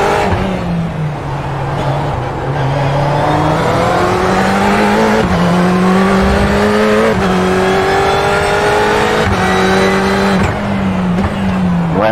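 Several Lamborghini cars rev and accelerate, engines climbing in pitch through repeated gear changes, loud and close and sustained throughout with little pause.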